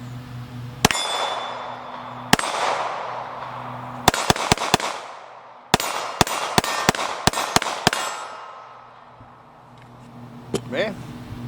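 Mossberg MC2C 9mm pistol fired at steel targets outdoors, sharp loud shots with ringing metallic clangs, first two spaced apart, then rapid irregular strings, with someone speaking over the quieter stretches.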